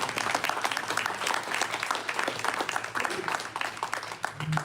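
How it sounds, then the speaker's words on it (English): A big round of applause from the audience at a community general meeting, steady and moderately distant, with many hands clapping continuously throughout. "a big round of applause for Michael DiCiancia."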